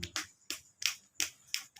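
Hands patting the feet during a home massage treatment, five soft, evenly spaced slaps about a third of a second apart, close and fairly quiet with no talking.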